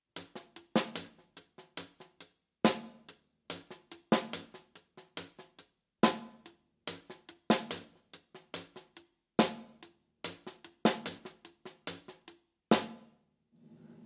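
Crisp snare drum strokes played alone in short rhythmic phrases, with some hits accented louder and brief pauses between groups.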